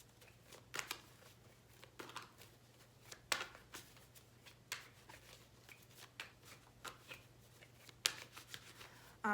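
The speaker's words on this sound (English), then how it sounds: "I'm just kind of gonna keep shuffling until I get something for you guys" Tarot cards being shuffled by hand during a reading, a quiet run of soft riffling flicks and papery slaps in irregular bursts over a low steady hum, with no voices.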